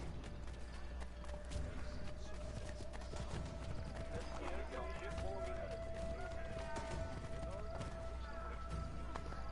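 A horse's hooves clip-clop steadily on a path in Assassin's Creed III, paired with footsteps, soft creaks and a low game hum, while voices talk over them.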